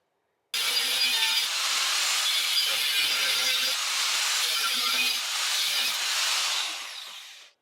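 A power tool cuts a square end on metal stock for a crossbar during fabrication work, a loud continuous harsh grinding roar lasting about seven seconds before tapering off, close and alone.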